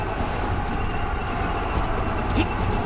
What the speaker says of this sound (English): That sounds like a tracked vehicle.